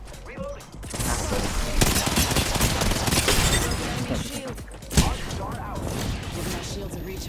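Rapid gunfire in the shooter Apex Legends, with dense, overlapping bursts of shots filling the scene and a sharp, heavy blast near the middle, while voices talk over the action.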